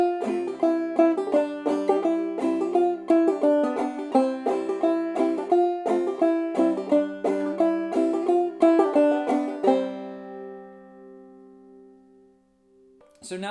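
Clawhammer banjo picks out the B part of the old-time tune "Old Molly Hare" in a steady bouncing rhythm of bright plucked notes, close and alone, ending with a ringing chord that fades out.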